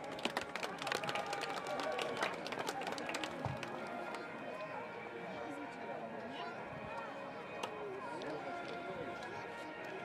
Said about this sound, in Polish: Brawa, brawa dla pierwszych walczących.